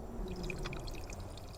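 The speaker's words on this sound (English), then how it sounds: "Even dripping noises?" Dripping water in Final Fantasy XIV, a quiet patter of small droplets falling over a soft low ambient bed, brief and faint.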